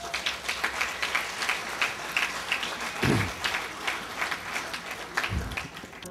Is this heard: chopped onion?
no